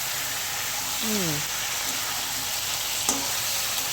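Chicken and tomatoes fry in a pan, a steady hiss like light rain that holds evenly throughout, with a brief voice and a single sharp tap near the end.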